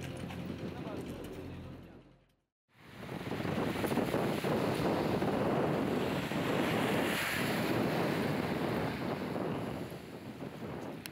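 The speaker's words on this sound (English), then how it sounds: "The waves are getting stronger." Strong ocean waves and surf roll in as a steady, loud, broadband roar, with a brief near-silent break before the surge returns at full strength.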